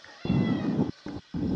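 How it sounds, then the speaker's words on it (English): A cat lets out a drawn-out meow followed by two shorter ones, close and fairly loud against a quiet background. "So if you hear meowing, that's my cat."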